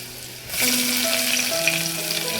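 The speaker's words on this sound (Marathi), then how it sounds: "तेल गरम झालेलं आहे आणि आता टाकलेलं लसूण इकडे बघा कांदा" Garlic and onion hit hot oil in a pan, bursting into a loud, steady sizzle and crackle after a brief quieter moment, close up.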